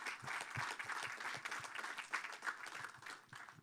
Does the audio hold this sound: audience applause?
yes